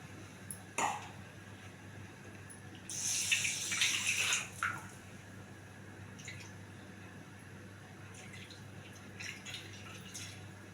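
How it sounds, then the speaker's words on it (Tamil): A short burst of water pouring into a pot of tamarind curry, a few seconds long, framed by faint drips and quiet kitchen clatter. "அதனால தான் கொஞ்சம் தண்ணி ஆட் பண்ணிக்கிறேன்"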